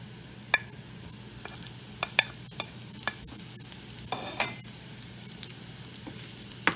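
Onions sauté in a pan with a low, steady sizzle, punctuated by scattered sharp scrapes and taps of stirring, heard close and without talk.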